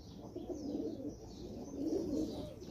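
A female pigeon coos close by, two soft, low, rolling calls over a steady background hum.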